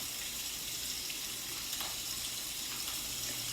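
Chicken pieces seasoned and browning in a pan give off a steady, even sizzle with a soft crackle, quiet and constant with no voices.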